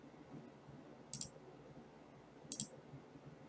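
Two quick mouse clicks in ThinkorSwim trading platform software on a TD Ameritrade setup screen, spaced about a second and a half apart, faint and crisp over a quiet background hum.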